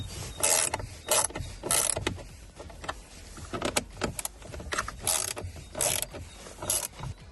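T-25 screws are being unscrewed from the lower plastic steering wheel trim of a VW-group car, producing repeated close ratcheting clicks and plastic rattles in short bursts, with no voice.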